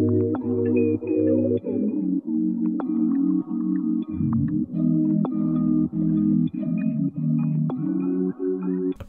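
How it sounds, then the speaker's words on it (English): A slow, chill R&B trap sample plays alone, with warm layered pads chopped into a rhythmic gated pulse over deep sustained low notes and faint higher melodic tones. "I really like the gated pad effect that it had going on"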